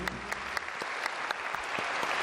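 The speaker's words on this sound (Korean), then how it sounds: "영광의 박수 올려드리겠습니다" A church congregation at a Christmas service claps together, a dense burst of many hands with sharp individual claps standing out, loud and close, with no talking.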